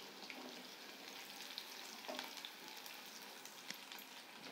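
Garlic tossed onto onion frying in oil in a cooking pot, giving a faint, steady sizzle with occasional soft pops and crackles, close but low in level.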